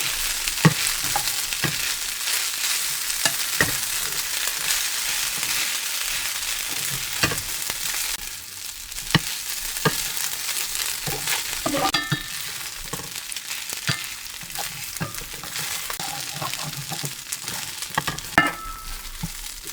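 Lentil mash being mixed and stir-fried in a pan, a steady sizzling frying hiss running throughout with scattered clicks and scrapes of a spatula, close and alone.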